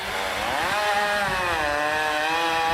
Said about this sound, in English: heard the chainsaws going.